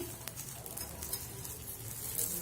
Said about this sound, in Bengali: তার জন্য আমি একটা চাটুতে একটু তেল মাখিয়ে নেবো, এটাতে দিয়ে এটাতে ছেঁকে নেব।